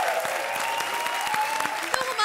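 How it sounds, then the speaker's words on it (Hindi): A studio audience at a comedy show applauds in a dense, continuous burst of many hands clapping, steady and fairly loud throughout, with no one speaking over it. "बजाओ ताली।"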